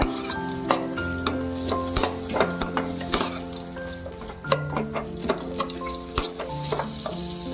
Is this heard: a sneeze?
no